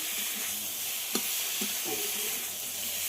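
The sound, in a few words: frying fried cauliflower and potato with spices in a pan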